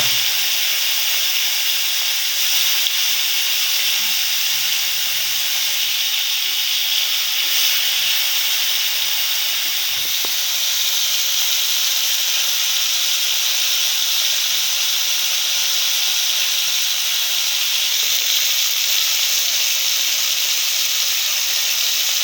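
Prawns and eggs fry in a hot pan over a village stove, producing an even, continuous hiss that stays close and fairly loud throughout, with no voices.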